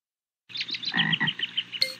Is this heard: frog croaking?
yes